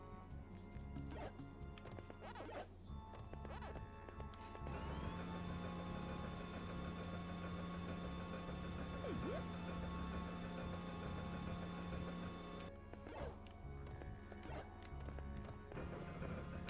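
A rev roll plate mechanism in the game Pac-Man World 3 clanks and grinds with ratcheting, gear-like clicks, settling into a sustained mechanical drone with a steady tone before the rattling returns, all faint and without speech.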